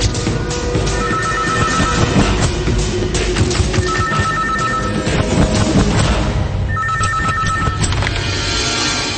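A telephone rings in a Telugu movie scene, its repeated electronic trill cutting through a loud, dense soundtrack.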